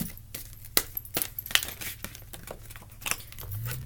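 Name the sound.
shuffling a deck of tarot cards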